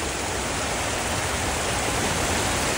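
Vasundhara waterfall in Bhandara, Maharashtra, roars as a dense, steady rush of falling water, loud and unbroken throughout, with no voices.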